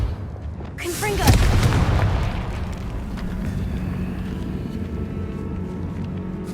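Confringo blasting spells explode in Hogwarts Legacy, a single heavy boom with a long rumbling tail that fades into steady low background noise.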